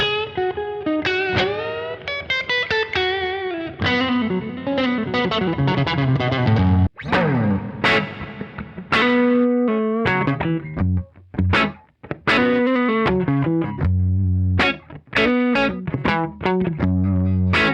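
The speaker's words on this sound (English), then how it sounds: "Throw the reverb on." Distorted electric guitar through an amp modeler with heavy compression and reverb plays a lively run of notes and chords with a spacious reverb tail, clear and unaccompanied, with brief pauses between phrases.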